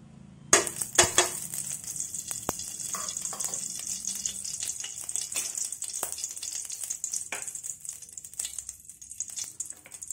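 A spoonful of ghee heating in a pan on a lit stove, a steady bright sizzle running throughout with several utensil clinks and taps near the start.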